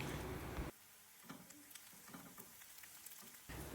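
Vegetables and curry leaves sizzle and fry in a pan for upma, a soft steady crackle with faint stirring scrapes, heard close with no talking.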